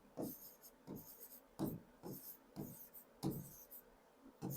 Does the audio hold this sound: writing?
yes